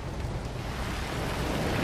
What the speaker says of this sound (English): Through the car windows, the rain looked truly poetic.